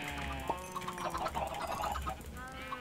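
Chickens in the video game Minecraft cluck quietly in a few short, scattered calls over low game background sound, with no clear speech.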